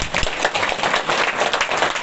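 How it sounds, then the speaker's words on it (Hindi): An audience at a Hindu religious discourse on the Devi Bhagavat Katha clapping together, a brief burst of dense, loud handclaps sustained for about two seconds with no voices. "आप अपने आप के लिए ताली बजा दो एक बार"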